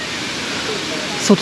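Khlong Lan waterfall in Kamphaeng Phet, Thailand, gives a steady loud broadband rush throughout, with a brief voice near the end.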